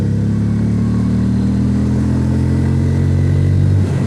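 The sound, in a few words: motorcycle braking test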